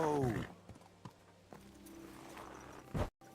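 Horse hooves in a video game clop a few times as the rider halts and dismounts, sparse hollow knocks after a loud opening voice, with a short burst near the end before sudden silence.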